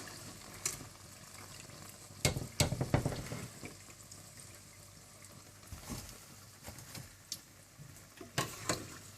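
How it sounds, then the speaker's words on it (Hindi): Spring rolls deep frying in hot oil give a quiet, steady sizzle, broken by a few sharp clatters and taps of utensils, close by. "इसी तरह से आप बाकी सारे भी डीप फ्राई कर लें"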